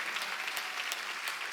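A church congregation claps together during a Sunday worship service, a steady, dense wash of applause holding at an even level throughout, with no voices over it.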